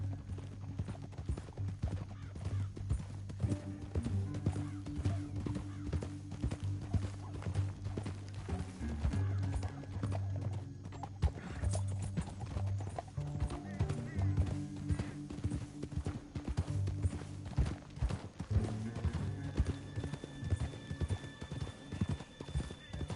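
Horses trotting in Red Dead Redemption 2, steady rhythmic clip-clop of hooves under game music, with talk over the top throughout.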